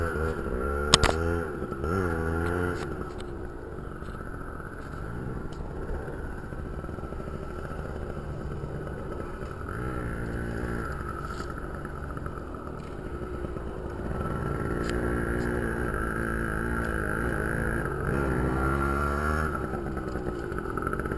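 A small Yamaha PW80 dirt bike engine revs and bogs in repeated surges as the rider pulls wheelies over grassy ground. The buzzy two-stroke note rises and falls in pitch, holding at a steady moderate loudness throughout with no speech.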